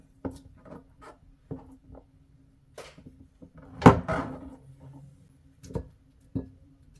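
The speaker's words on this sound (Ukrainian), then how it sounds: "Фету теж нарізаємо кубиками." A knife cuts feta cheese into cubes on a cutting board, producing scattered soft taps and thuds at uneven intervals with one louder knock midway, close and otherwise quiet.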